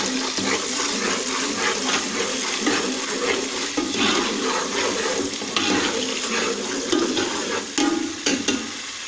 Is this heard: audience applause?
no